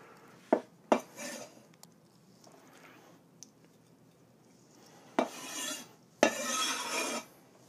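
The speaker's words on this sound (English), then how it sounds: "Gonna dump my black beans. And then these chopped up green beans." Canned black beans and fresh chopped green beans tipped into a camp cooking pot for a trail meal: a few sharp metallic clanks and scrapes, then two longer rushing pours of food sliding in, close and clear.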